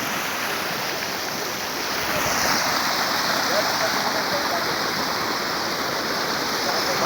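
Water spills steadily over a full weir in a broad, dense rush that is close and unbroken, growing a little louder partway through.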